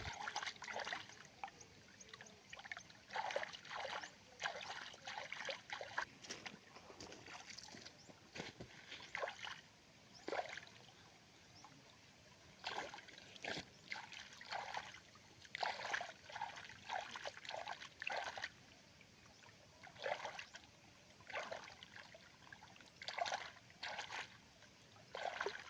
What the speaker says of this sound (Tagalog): Tinaw kaayo ang ila tubig diri guys. Gamay lang siya nga sapa.